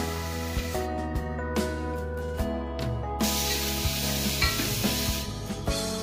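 Fenugreek leaves and ginger-garlic-chilli paste sizzle in a hot pan, a steady frying hiss broken by regular stirring scrapes and clinks, with no voices.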